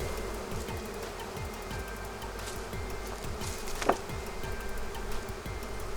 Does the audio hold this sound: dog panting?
no